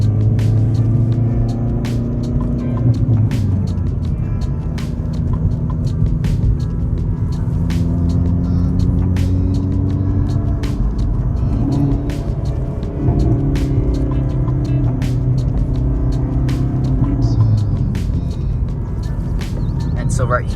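A manual-transmission car pulls up to a red light, its engine a steady, close, low rumble inside the cabin that shifts slightly in pitch as it slows, with a voice speaking throughout.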